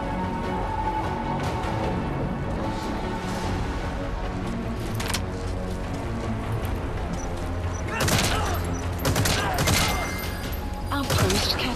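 Gunfire from Metal Gear Solid V: The Phantom Pain, distant-sounding shots cracking over a steady, busy game soundscape, with a louder cluster of bursts near the end.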